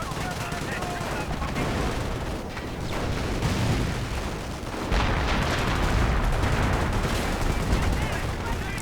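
Battle noise from a WWII strategy video game: dense, continuous bursts of gunfire and explosions as assault grenades are lobbed, British base under fire, loud and unbroken throughout.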